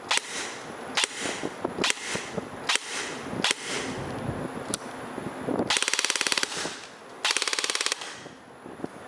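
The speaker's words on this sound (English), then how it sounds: "As you can see there from our little chrono test, these rifles do chrono in at around 350 FPS with just under 20 balls a second" A G&G PRK-9 airsoft rifle, a 9mm-style AK, fires during a chrono test, with a few single shots followed by two rapid full-auto bursts of about 20 rounds a second, loud and close, with no talking.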